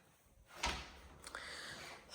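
A basement door in a house is shut at about two-thirds of a second, a single fairly close thump with a brief rattle. A softer knock or click follows a moment later, with no talking.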